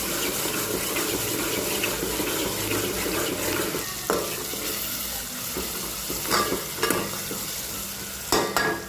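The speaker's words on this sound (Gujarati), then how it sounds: "તેલમાં જો ડુંગળી ને ટમેટું નાખી દીધું છે" Chopped onion and tomato fry in hot oil with a steady, close sizzle, broken by a few sharp clinks and scrapes of a spoon stirring the pan.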